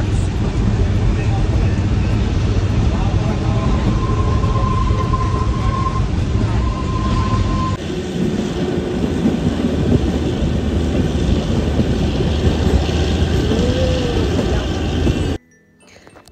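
The Shimla toy train rolls along on a mountain railway with a loud, continuous rumble and rattle of wheels and carriages close by, a brief whistle-like tone rising partway through, before the sound cuts off near the end.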